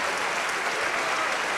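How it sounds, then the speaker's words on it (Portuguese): Congregation applause at a church service, a dense, even roar of clapping filling the whole moment with no speech on top. "vamos dar para esta palavra a melhor salva de palmas que você já deu em toda a sua vida"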